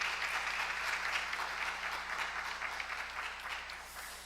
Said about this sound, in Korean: 우리 다 같이 박수 한번 하겠습니다.